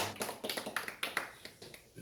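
A church congregation at a Sunday service in Suwon claps together in a short burst of sharp, fairly regular hand claps that trail off after about two seconds, with no talk over them.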